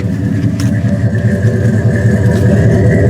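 A 2001 Chevy Suburban engine idles through a 50 series Flowmaster exhaust with no catalytic converters on a very cold day, a deep, throaty rumble, loud and close, steady throughout.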